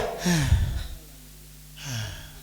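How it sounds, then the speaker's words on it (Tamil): Heavy, out-of-breath panting with loud gasping inhales and exhales, two breathy bursts separated by a quiet pause, close and fairly loud, with no talk over it. "எதுக்கு உனக்கு மூச்சு வாங்குது?"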